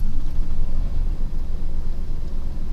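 A pickup truck engine idles steadily with a smooth, even low rumble and no misfire, heard close and continuous with no talking.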